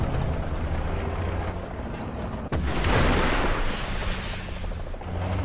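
ADATS missile on an M113 carrier in War Thunder: a loud, constant engine roar is cut by a sharp launch crack, followed by a rushing burst of noise that fades back into the steady rumble.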